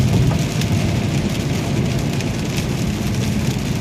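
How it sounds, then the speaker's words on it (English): Rain drums steadily on a rebuilt salvage Pontiac G6 convertible cruising at about 55 mph, a continuous broadband wash of rain and road noise filling the cabin with no talking. "Sorry for all the rain noise and"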